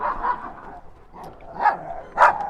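Dogs bark and yip in short clustered bursts from nearby, a scuffling squabble with sharp high yelps toward the end and no talk.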